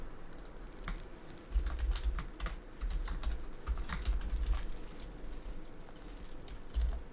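Computer keyboard typing during a Feudal game match broadcast: scattered quick key clicks in irregular bursts, fairly close and moderately loud, with no talking over them.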